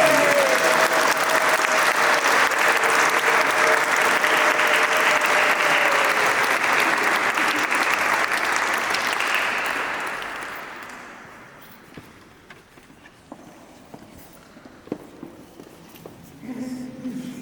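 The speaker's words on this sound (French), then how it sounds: "On applaudit pour Amélia." A congregation claps after a child's baptism in church, loud sustained applause for about ten seconds that fades away, leaving a quiet room with scattered small sounds.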